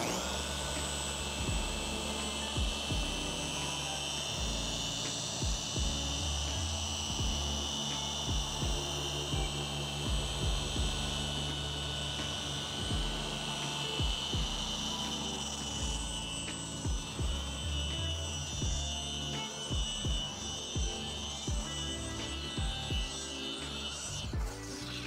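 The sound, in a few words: car paint polisher running on paint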